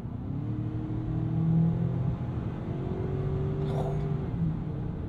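Ford Maverick Tremor pickup accelerating out of low range, a steady mid-pitched engine drone with a rising harmonic that swells and holds, heard from inside the cab with light road noise.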